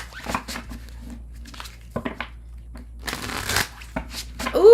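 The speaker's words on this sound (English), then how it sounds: "I'm going to shuffle and move on to Cancer." Tarot cards shuffled in quick riffling bursts, close and crisp, with brief speech and background murmurs between the shuffles and a short rising tone near the end.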